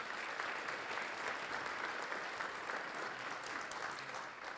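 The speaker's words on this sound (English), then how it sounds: "Now let's have some applause for them." Audience applause for elected officials at a public safety awards ceremony, a steady, dense wash of many hands clapping throughout, fairly distant and even in level.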